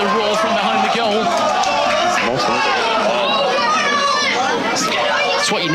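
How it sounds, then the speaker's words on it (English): A dense crowd noise fills the space behind the goal at a Radcliffe football match, steady and loud throughout, with many overlapping voices, shouts and a few high cries, and no clear single speaker. "Radcliffe starting to believe, and you can hear the roar from behind the goal."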